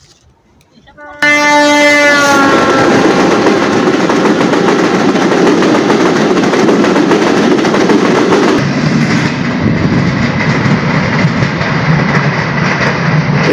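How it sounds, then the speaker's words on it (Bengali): A train passes close by a picnic spot in Jessore, opening with a loud multi-tone horn blast and then a sustained, heavy roar of wheels and carriages rumbling past at full volume, easing slightly toward the end. "ট্রেন চলে গেল।"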